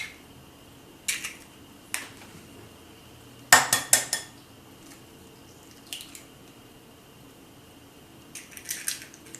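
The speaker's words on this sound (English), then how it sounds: "In it, I'm gonna crack in 2 eggs." Two eggs are cracked into ground pork and beef for a meatloaf: a few quiet, sharp taps and cracks, including a quick cluster of clicks, separated by near silence.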